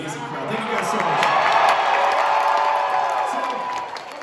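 A concert crowd at a live symphony show in Chicago roars with cheering and applause, a broad swelling wash of noise that builds to a peak midway and then eases off, with a voice faintly mixed in.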